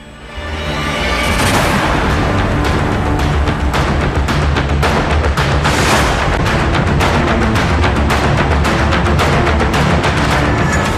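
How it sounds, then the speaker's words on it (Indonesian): Korean airliner tail striking the runway on a too-slow landing and slamming down with a loud boom amid thick smoke; a sudden, sustained loud roar with rapid crackling bursts fills the scene from about a second in, staying close and dense throughout. "jatuh kembali ke tanah dengan suara dentuman keras dan diwarnai asap pekat"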